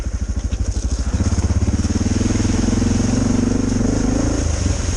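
Suzuki DR650 single-cylinder motorcycle engine with new suspension, heard close while riding, a loud pulsing thump that rises steadily in pitch as it accelerates, with wind noise and no talk.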